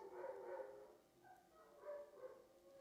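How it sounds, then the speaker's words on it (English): A dog whimpers outside at night, faint and distant, in two drawn-out bursts of high whining with a quiet pause between them. "This dog starts whimpering outside."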